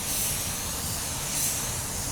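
Paint spray gun laying down a final drop coat of paint onto a spray-out card, a steady continuous airy hiss running unbroken and fairly close throughout.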